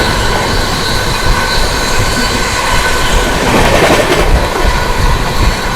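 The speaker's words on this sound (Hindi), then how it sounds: "Parallelly overtaking Sangam Mitra express Danapur SMBT." Indian express trains, the Sangamitra Express and a Danapur service, run side by side at speed, one overtaking the other, with a loud, constant roar of wheels on rails and a faint rhythmic clatter that continues throughout, without talk.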